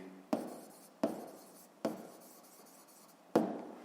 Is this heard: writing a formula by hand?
yes